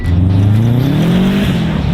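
A Subaru on studded tires accelerates hard across a frozen lake, its engine note climbing steadily in pitch, loud and close throughout.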